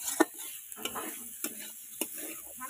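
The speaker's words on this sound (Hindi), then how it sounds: "5 मिनट खंडे कषिदेले आलू आ बम्बुरी मसलाटा भी भल मिसीज" Potatoes and spice mix stir-fried in a pan, a quiet steady sizzle broken by several sharp scrapes and clinks of a spatula stirring at a close distance.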